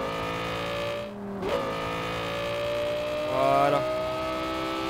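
A car driving in Garry's Mod: a steady engine tone with harmonics holds throughout, dips briefly and then rises again as it revs, while someone speaks French once, briefly.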